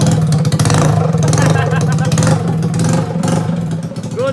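A Yamaha NMAX turbo scooter engine runs and revs in bursts, loud and close with rattly clatter, while people talk excitedly over it.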